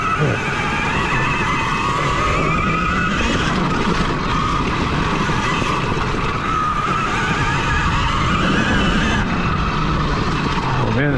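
A KTM Freeride E-XC electric dirt bike takes off on a trail, a rising motor whine mixed with tire scrabble and rushing noise, loud and close throughout.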